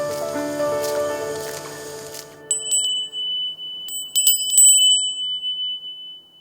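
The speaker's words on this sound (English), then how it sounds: "A more widely known item is the wind bell, or Fūrin." A Japanese Edo fūrin glass wind bell rings, first a soft tinkling chime cluster fading, then several bright, clear strikes with long ringing decays, close and alone.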